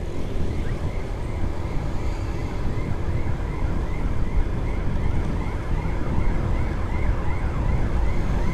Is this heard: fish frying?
no